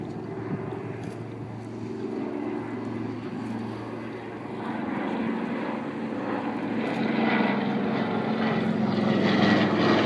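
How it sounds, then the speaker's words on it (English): Steady droning roar of a propeller bomber's engines at the EAA 2012 airshow, loud and sustained, growing slightly louder as the aircraft approaches, with no talking. "I love the ICD-389 bomber, the red tail."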